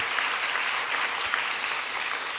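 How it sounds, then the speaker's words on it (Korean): Sustained applause from a congregation at a Korean church service, a dense, continuous patter of many hands clapping at a steady level throughout. "우리 청년 교회장님들과 YSP 젊은 학생들에서 우리 박수 한번 좀 힘내라고 박수 한번 부탁드리겠습니다."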